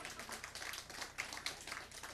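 Audience applause at a party's founding rally, a steady, fairly faint spread of many hands clapping with a few sharper claps standing out.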